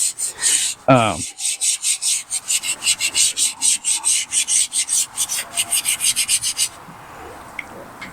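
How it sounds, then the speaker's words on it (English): Steady back-and-forth sanding strokes on a metal grille of a D150 truck rasp rhythmically up close, about two per second, after a brief squeak at the start, then stop, leaving quiet room noise. "Nobody wants to see this much sanding."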